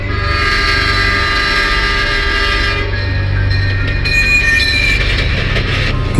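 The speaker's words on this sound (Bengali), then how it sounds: "গ্রামের লোকজন ট্রেনের আওয়াজ শুনতে পেতে থাকে" A train sound effect in an animated Bengali horror story: a steady, loud rumble of rolling carriages and wheels with a sustained horn-like tone, continuous throughout and no speech.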